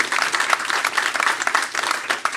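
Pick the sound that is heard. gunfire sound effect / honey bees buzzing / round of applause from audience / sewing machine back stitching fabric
round of applause from audience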